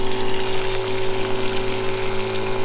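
A water pump runs steadily after a pressure switch fix at Lorella Springs, a constant mechanical hum with a gushing, splashing water wash, close and loud, with no talking.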